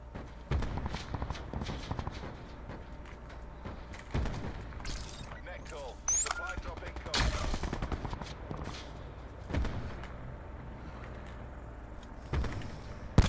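Gunfire from the battle royale video game Call of Duty: Blackout: repeated sharp shots, some near and loud, others distant, scattered across the clip among ambient game noise, with players talking over it.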